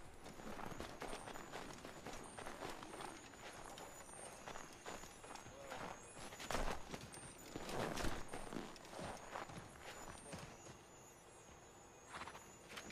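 Horse hooves clip-clop at an irregular pace in the video game Assassin's Creed III, amid background rumble and scattered clatter, with occasional louder thumps.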